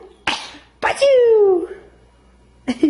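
A child's sneeze comes as a sharp burst, followed by a vocal 'achoo'-like cry and a short breathy sound at the end, close and loud.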